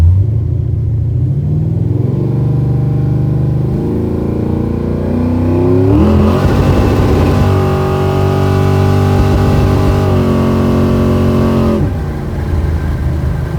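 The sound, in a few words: big block Chevrolet Caprice engine accelerating, hitting rev limiter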